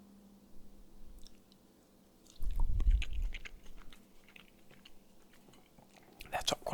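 Close, soft chewing of butter and herb potatoes with a minty taste, alongside vegetables, heard as quiet wet mouth sounds with a louder burst of crunching in the middle and faint clicks near the end.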